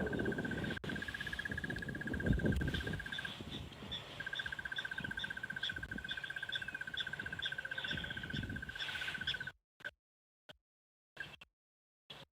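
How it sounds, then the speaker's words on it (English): A bird calls repeatedly at sunrise on an African safari, a thin, evenly spaced run of high notes over faint morning ambience, ending in a few short isolated chirps. "sometimes you can hear the call but not actually see where the bird is"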